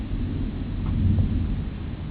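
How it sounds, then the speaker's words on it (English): Distant thunder rolls low through a summer storm at 4 a.m., a steady deep rumble with no clear crack, faint and far off. "I've noticed that the farther away a storm gets, the lower the thunder seems to be."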